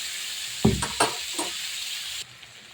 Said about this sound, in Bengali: তারপরে সিম বেগুন পেঁপে আলু একসঙ্গে দিয়ে এবার নেড়ে চেড়ে এবার আমি ঢেকে দেবো